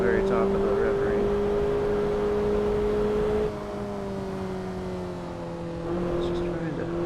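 Car engine in Assetto Corsa on LA canyon roads, a steady droning tone holding high revs throughout, shifting pitch slightly midway, loud and continuous.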